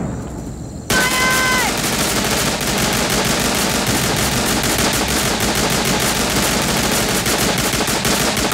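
Sustained automatic gunfire from the Tiny Troopers video game, a loud, continuous rattle of rapid shots that begins abruptly after a short lead-in and runs without pause to the end.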